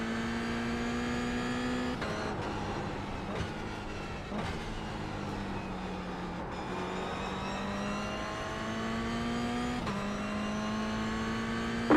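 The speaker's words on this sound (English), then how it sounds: "This engine is whining." Race car in a sim racing game with a whining engine, a continuous high-pitched drone rising and falling through gear changes and downshifts, loud and close throughout.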